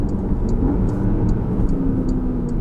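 A Porsche Panamera Turbo S E-Hybrid engine heard from inside the car as a loud, steady low rumble through a third-to-second downshift, with faint regular ticking above it.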